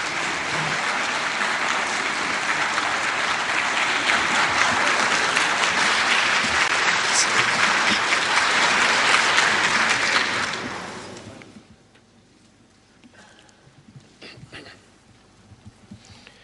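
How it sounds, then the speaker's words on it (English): A conference hall audience in Geneva applauds the President with dense, sustained clapping for about ten seconds, then it fades out, leaving a quiet room with scattered small sounds. "Applause there for the President."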